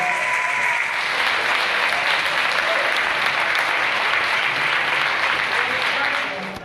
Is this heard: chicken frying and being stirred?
no